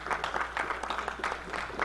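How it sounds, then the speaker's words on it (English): Applause from a conference audience at a security gathering, a soft, fairly faint patter of many hands clapping continuously. "Round of applause,"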